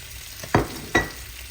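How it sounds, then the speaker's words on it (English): Onions and peppers dropped into hot oil in a pan: two sharp scraping hits about half a second apart over a steady background hiss of frying, with no voices. "We're gonna go ahead and drop our onions and peppers."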